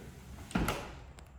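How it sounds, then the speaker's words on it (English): An 8-foot set of PGT sliding glass doors glides along its track with a brief, soft rolling rumble and a muffled knock, quiet and close. "I'm moving 8 foot of doors with one finger"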